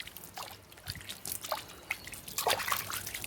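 Water trickles and splashes over the leaves of a newly planted Tecoma flowering plant, an uneven run of soft drips and patters that grows a little fuller toward the end.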